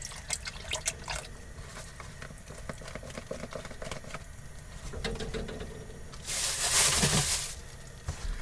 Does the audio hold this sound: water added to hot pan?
yes